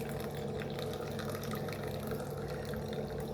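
Butterfly pea flower tea is strained from hot water into a tumbler: a continuous close trickle and splash of pouring liquid that runs steadily the whole time, with no talk.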